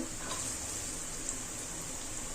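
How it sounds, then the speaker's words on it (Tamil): Carrots and beans sauté with ginger-garlic paste in hot oil, a soft, even sizzle that runs steadily without breaks, fairly quiet and close, with no one talking. "இஞ்சி பூண்டு பேஸ்ட்டு சேர்த்து எண்ணெயில் கொஞ்சம் நல்லா வதக்கிக்கலாம்"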